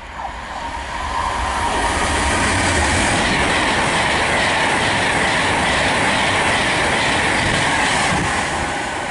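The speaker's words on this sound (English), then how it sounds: "passing through now, I've got another Virgin train to Pendolino" A Virgin Pendolino tilting express passes through a station on the West Coast Main Line at Nuneaton, a loud, sustained rush of wheels and rail noise that builds quickly and holds steady, with no talking.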